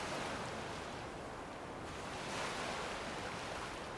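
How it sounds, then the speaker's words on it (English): Ocean waves wash along the coast in the video game Skyrim, a continuous broad rushing surf with gentle swells in loudness, soft and ambient with no talk. "Listen to the waves."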